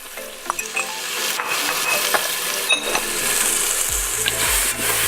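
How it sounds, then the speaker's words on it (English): Tomatoes sautéing with salt in a pot for Indian lentil and spinach dal, a steady close sizzle and frying hiss with repeated stirring scrapes and light clinks of a utensil against the pot, no talk. "I will saute this for about a minute"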